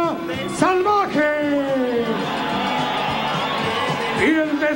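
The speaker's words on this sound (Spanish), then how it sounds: "El aplauso para Bestia" Crowd at a CMLL lucha libre wrestling match in 1999 cheering and whooping for the wrestlers, a steady roar of applause heard beneath an announcer's voice.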